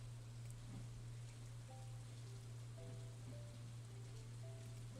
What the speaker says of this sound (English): we have the rain as a sound right now